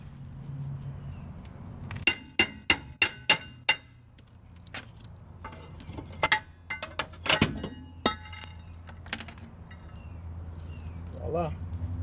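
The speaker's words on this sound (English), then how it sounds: "don't be afraid to just use whatever regular hammer" A regular hammer strikes a rear brake rotor on a 2007-2013 Acura MDX SH-AWD, sharp metallic clanging blows in two rapid bursts of about five, ringing over a low workshop hum, followed by a faint voice.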